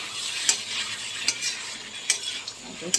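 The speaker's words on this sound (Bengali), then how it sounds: "দেখো চিকেনটা আমার কষা কষা হচ্ছে" Chicken being stir-fried for kosha in a pan, with a spatula scraping and clinking against the metal a few times over a soft sizzle, close up and with no talking.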